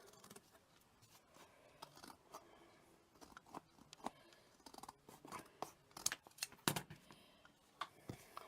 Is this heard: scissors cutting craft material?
yes